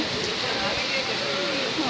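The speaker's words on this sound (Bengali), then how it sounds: "আমাদের মানিকগঞ্জে আজকে খুবই বৃষ্টি হচ্ছে" Heavy rain pours down in Manikganj, Bangladesh, a dense, unbroken hiss close by, while a voice speaks over it.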